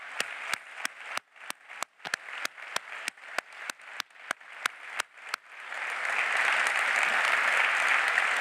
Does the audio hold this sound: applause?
yes